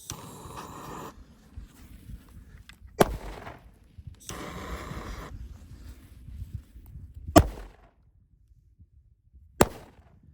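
Soccer ball firecrackers go off in rapid succession: crackling bursts of rapid pops alternate with sharp, loud single bangs, separated by brief quiet gaps and with no talking.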